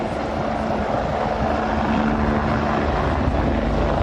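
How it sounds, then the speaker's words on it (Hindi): A helicopter drones steadily overhead, spraying water onto the burning Crocus City Hall mall in Moscow, with a continuous, loud rotor and engine roar and no voices. "हेलीकॉप्टर से पानी की बौछार की जा रही है मॉल के ऊपर"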